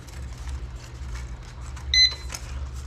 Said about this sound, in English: Camera up, counterclockwise until you hear a beep.